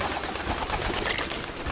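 Pigeons coo and flutter as they are fed, a steady soft cooing texture with no talk over it.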